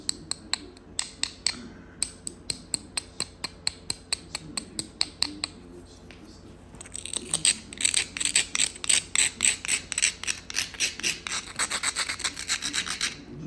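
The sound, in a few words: grinding stone to cut a dovetail notch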